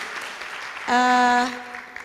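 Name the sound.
applause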